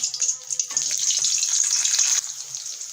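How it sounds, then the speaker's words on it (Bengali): Eggs frying in hot oil give a bright, steady crackling sizzle that swells partway through and then eases a little, close by with no voices. "ডিম ভেজে নেবেন"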